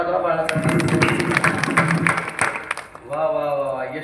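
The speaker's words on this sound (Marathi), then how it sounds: "जरा टाळ्या वाजवा बाळासाठी" Audience clapping for a young child named Yashwant at a spoken gathering, a short burst of applause rising for about two seconds, then a voice resumes talking.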